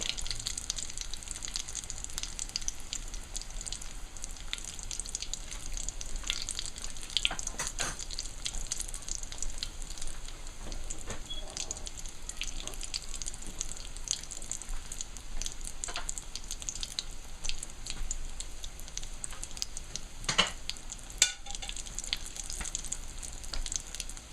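Fish cakes frying in a pan over a medium flame, a steady close sizzle running throughout with occasional louder crackles and pops, no voices.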